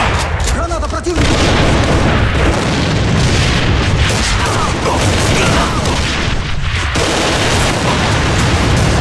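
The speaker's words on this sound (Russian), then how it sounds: "Граната противника!" An enemy grenade blasts in a team deathmatch round of the A.V.A shooter, a loud booming burst tangled with steady gunfire and shouted voices throughout.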